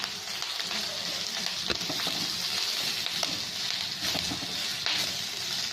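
Curry leaves fry in a pan for chutney, giving a steady, close crackling sizzle with a few sharper pops along the way and no voices.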